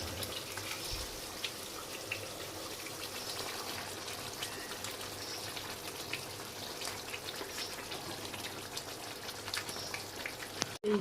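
Mutton rubbed with salt and turmeric is added to a hot pan of gravy and sizzles with a steady, fairly faint hiss throughout, ending in a brief clatter of utensils.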